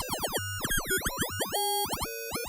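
Warbling Zebra3 synth tones using filter FM, with swooping, bouncing pitch sweeps and rubbery resonant chirps, loud and fairly busy, no voices.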